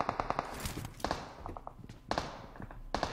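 Video-game gunfire in Squad crackles in quick, fairly faint clusters of sharp shots, with short pauses between bursts and some background game noise.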